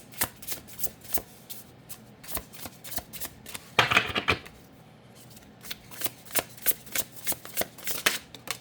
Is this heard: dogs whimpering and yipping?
no